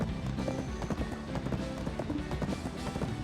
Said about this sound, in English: I've got to pull up my horse here.